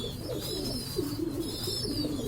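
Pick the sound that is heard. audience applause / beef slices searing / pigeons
pigeons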